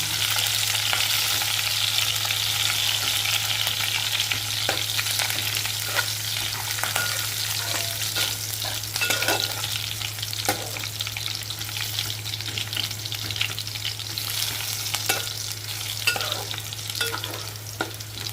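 Green chillies and onions frying in a pan for a pumpkin seed curry, a steady close sizzle with occasional stirring scrapes throughout, alone without voices.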